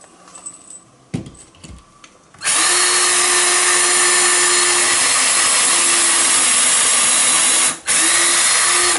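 After a few quiet knocks, a power drill whines loudly and close, pre-drilling into a wall stud continuously with one brief pause before spinning up again.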